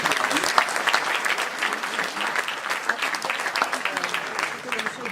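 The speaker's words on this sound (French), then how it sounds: "je vous demande de l'applaudir également" An audience claps throughout at a political speech in Valence, dense, sustained applause filling the hall at close range, with a speaker's voice faintly audible beneath it.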